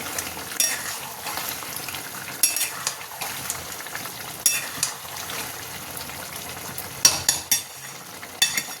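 Chicken curry with yogurt and tomato sautéing in a pan, a low continuous sizzle punctuated by repeated spatula scrapes and taps against the pan, close and steady.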